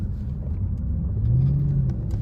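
A Mercedes CL600 V12 driving, a steady low engine rumble with a slight rise in pitch as it pulls, heard from close by.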